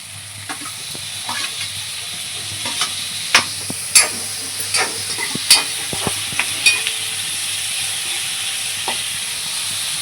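Onion and tomato sautéing in a pan, a constant bright sizzle broken by sharp scraping and clinking stirs, loud and close.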